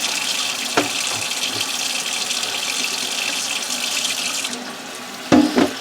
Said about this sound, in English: And then with cold water, you will fill that pot up.